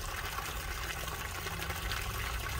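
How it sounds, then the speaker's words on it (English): Water drains from the tank of a Transcend Xplor 265BH travel trailer, a steady, moderately quiet gushing rush that stays constant throughout. "pull the water valve. Dump all the water out"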